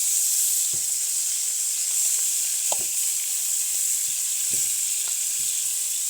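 Food fries in butter in a pan with a steady, bright sizzle and a few soft clicks and taps of utensils, close and continuous.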